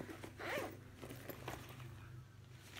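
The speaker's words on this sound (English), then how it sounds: "Then we have a zipper pocket." A zipper on a pocket of a bright blue handbag is pulled open, making a short, close, ratcheting burr that is quick at first and then slows to a few softer ticks, with no voices.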